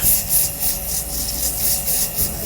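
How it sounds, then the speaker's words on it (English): A wooden ice cream scoop handle is sanded on a lathe, giving a steady, close, raspy rubbing with a slight chattering pulse as the abrasive bounces against the spinning wood. "right now it's chattering a little bit while I'm sanding it"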